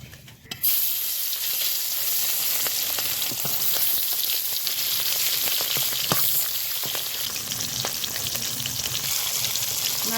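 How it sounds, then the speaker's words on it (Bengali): Loud, constant sizzling of hilsa fish, rubbed with salt, turmeric and chilli powder, frying in oil, full of crackles and small pops, starting abruptly and running steadily without speech. "লাল লাল করে ভেজে নেব"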